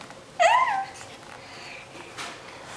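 A voice imitates a cat with a single short, rising-falling meow, heard close and followed by quiet room sound.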